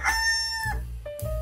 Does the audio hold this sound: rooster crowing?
yes